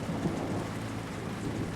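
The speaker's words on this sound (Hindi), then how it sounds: "बारिश हो रही है" Heavy rain falls steadily at night with a low rumble of thunder beneath it, a dense continuous wash of sound with no talk.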